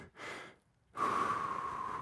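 Heavy, forceful breathing from someone doing a Romanian deadlift in a lower-body workout, a harsh inhale then a long loud exhale, close and with no talk.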